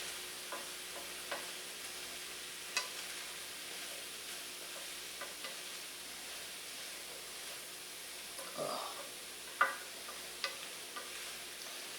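Potatoes being stirred in a pot for chowder make a soft, faint sizzle with occasional light scraping knocks from the spoon, steady and close with no talking.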